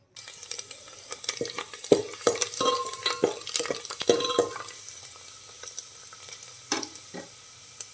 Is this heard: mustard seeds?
yes